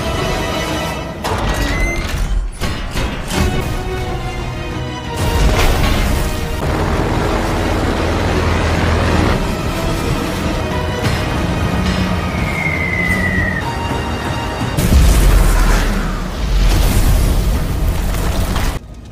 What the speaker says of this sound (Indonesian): 3 pesawat tersebut berbalik dan menjatuhkan bom-bom ke kereta